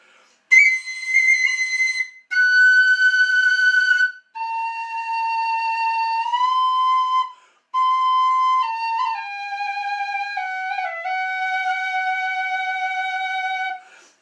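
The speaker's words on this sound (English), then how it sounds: "on the whistle, you would use finger vibrato." Pennywhistle played alone with finger vibrato, a series of clear sustained notes with wavering pitch, some sliding between steps, in several phrases separated by short pauses.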